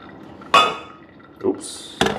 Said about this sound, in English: Oops, almost knocked into the other server.